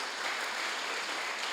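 Sustained applause from a congregation during a Bible class, a dense, even wash of clapping that holds steady for over a second with no talk on top.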